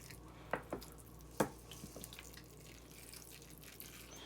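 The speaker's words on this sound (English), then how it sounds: "Now we're just gonna give everything a good water." Water drips and trickles quietly while transplanted basil in moistened potting mix is watered, with a few distinct drops early on and then a softer, steady trickle.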